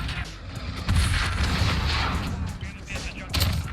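725 shotgun blasts in Modern Warfare, heard as a couple of heavy, booming shots up close, with a player talking over the gunfire.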